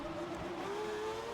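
Ferrari Formula 1 car engine in an F1 racing video game at Spa, Belgium, a sustained high whining drone that slowly rises in pitch, steady and close throughout the short stretch.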